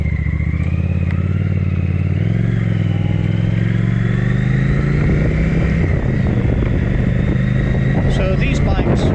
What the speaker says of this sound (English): on the CX500 Turbo, 1982 model, and I'm in a neighborhood, and we're going to take it out for a little spin just to show you how it runs